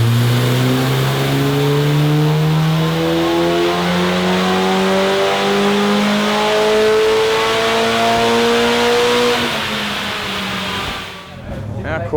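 A Mitsubishi Cordia turbo revs hard on a dyno, its engine tone climbing steadily through the gears for several seconds before cutting off abruptly. The engine is loud, close and sustained, with no talk over it.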